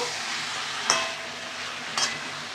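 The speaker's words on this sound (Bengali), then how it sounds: "আর সাথে চর্বিগুলো দিয়ে দিলাম। আবারও ভালো করে কষিয়ে নেব।" Mutton pieces and fat sizzle steadily in a hot pan, with two sharp scraping stirs of a spatula about a second apart cutting through the constant frying hiss.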